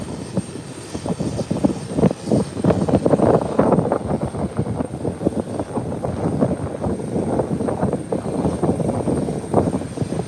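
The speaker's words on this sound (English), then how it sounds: "The nose wheel is up and it's away, heading into Miami, Florida." An airplane climbs away after takeoff from Howard Hamilton International Airport, bound for Miami, Florida, its engine roar loud and steady throughout with a rough, rumbling texture and no talk over it.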